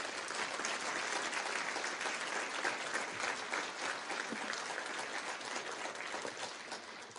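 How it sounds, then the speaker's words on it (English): Steady, dense audience applause at a conference, sustained throughout without a break and heard from within the room, with no speech over it. "Could you give her a round of applause, please?"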